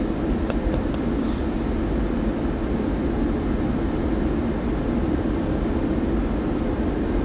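An airliner approaching in the PMDG 737-800 flight simulator game, a continuous low rumbling roar of jet engines held steady throughout with no distinct onset or fade.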